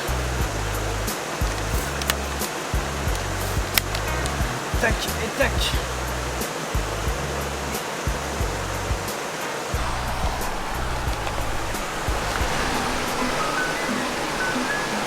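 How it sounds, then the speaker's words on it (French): A stream rushes and babbles continuously close by, a dense steady flow with occasional small splashes and a brief spoken word. "je suis vraiment à côté du cours d'eau"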